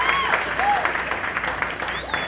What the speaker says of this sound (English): Let's give another round of applause to the ESHS Senior Concert Band.